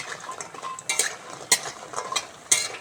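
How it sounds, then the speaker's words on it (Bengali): Spiced lentil dumplings (masala bori) fry in hot oil with a low crackling sizzle, broken by sharp metallic clinks of a spatula against the pan at irregular intervals. "মশলা বড়ি কটা ভেজে নিচ্ছি, ভালো করে লাল লাল করে ভেজে নেব"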